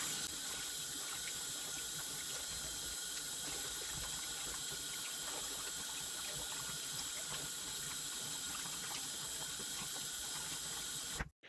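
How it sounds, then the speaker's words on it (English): Steady running hot tap water splashes continuously into a sink while a paint brush is rinsed, a close, even hiss that cuts off abruptly at the end. "you can clean these Rollingdog brushes just with a little bit of hot water"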